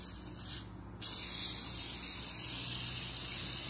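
Close spraying of an edible food coloring aerosol onto a cake hisses steadily, broken by one brief pause near the start, then continuing unbroken.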